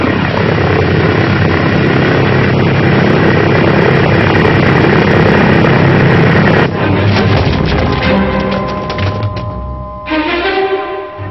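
A military aircraft roars loudly and steadily, with engine and propeller noise, then gives way to heavy thuds and a clanking, rumbling tail, much like a troop landing in Kashmir.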